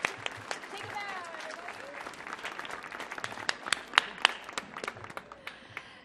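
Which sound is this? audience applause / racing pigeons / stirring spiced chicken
audience applause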